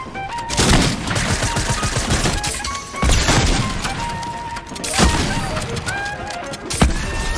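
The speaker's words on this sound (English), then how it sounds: "I kind of just whiffed all my shots on you" Fortnite gunfire rattles in dense, loud bursts of rapid shots, mixed with impacts and crashes, and it continues almost without a break through the whole stretch.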